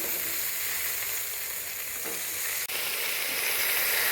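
Finely chopped, washed amaranth leaves hitting a hot oiled pan, producing a loud, continuous hissing sizzle throughout with a faint stirring scrape near the end.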